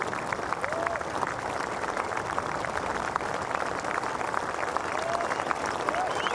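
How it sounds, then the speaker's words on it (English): A golf gallery at the 2009 BMW PGA Championship applauds steadily as Casey walks up to the 13th green, a dense sustained clapping from a crowd some distance away. "Applause for Casey coming up to the 13th green."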